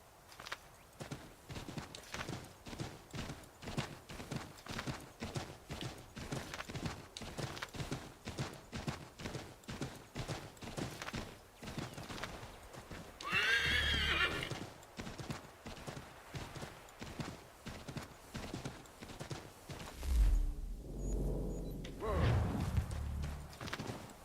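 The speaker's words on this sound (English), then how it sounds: "Now this is a horse." Steady clip-clop of horse hooves at a walking rhythm in the video game Assassin's Creed, close and even, with a brief rustling burst midway and a low thump near the end.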